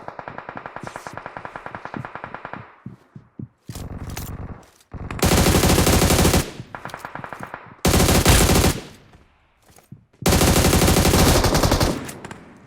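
Automatic gunfire in the mobile game PUBG Mobile: a run of rapid, evenly spaced shots, then several long, loud sustained bursts separated by brief pauses.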